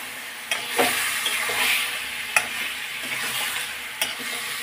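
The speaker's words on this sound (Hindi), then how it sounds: "इसलिए हम मीडियम आंच पर भूनेंगे मसाले को" Masala for chicken frying over a medium flame, a continuous sizzle with a few sharp scrapes and taps of a spoon against the pan.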